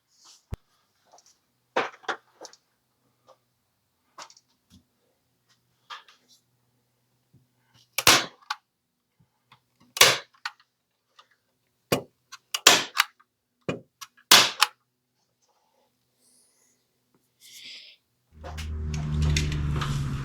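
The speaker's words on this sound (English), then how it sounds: "hit it with a staple at each point there" A staple gun fires into insulation fabric stretched across a shop ceiling, giving several sharp, separate snaps spaced a second or two apart, with quiet handling noises between and a low rumble at the end.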